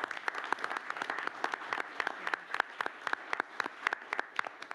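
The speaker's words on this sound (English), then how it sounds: "let's give a round of applause for it" Applause from an audience at a city council meeting, many hands clapping in a busy, crackling wash with sharp individual claps popping out, close and steady throughout.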